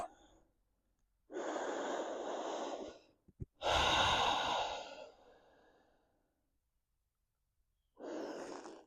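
Resting recovery breath during a yoga flow for lower back strength: slow, close, audible breaths, a long exhale and a deep inhale with brief sniffs between, followed by quiet and one more breath at the end.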